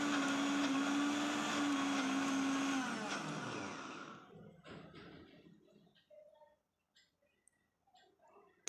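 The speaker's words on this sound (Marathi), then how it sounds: "हे मिश्रण मी मिक्सरला व्यवस्थित असं दळून घेतलेलं आहे" A kitchen mixer grinder whirs loudly while grinding medu vada batter, then spins down after about three seconds into quiet, with a few faint clicks and handling sounds.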